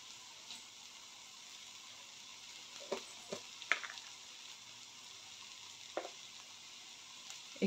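Okra (bhindi) being sautéed in a pan: a faint, steady sizzle broken by a few sharp clicks and taps from stirring, quiet and close, with no talking.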